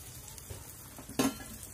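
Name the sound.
fish frying and sizzling in a pan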